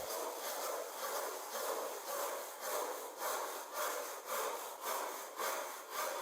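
A hand saw cutting through wood, making a steady series of about a dozen rhythmic rasping back-and-forth strokes, close and moderately loud, with no talking.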